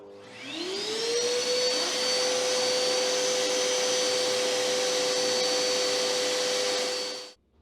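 An SGS wet/dry vacuum cleaner starts with a rising whine and settles into a loud, steady motor roar with a high tonal hum, running alone for about seven seconds before cutting off abruptly.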